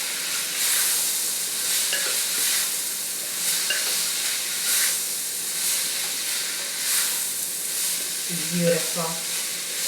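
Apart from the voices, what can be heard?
carrots added to sizzling Kerala vegetable stew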